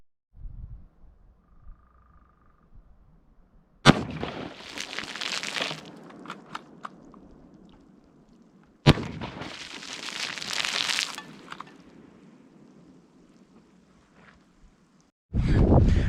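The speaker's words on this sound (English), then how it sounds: "So let's quickly get the Mosin a shot, because it's going right through this." A Mosin rifle fires into plastic pipes: two sharp, loud cracks several seconds apart, each followed by a burst of rattling, crackling noise that fades out, with faint background hum between.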